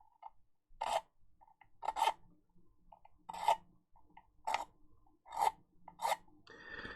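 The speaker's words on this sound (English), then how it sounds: "Let's carve that off and we'll go a bit of filing action." A metal file rasps against a small plastic Warhammer miniature in a series of short, close scraping strokes, six distinct bursts with brief pauses between them, loud and dry with no talking.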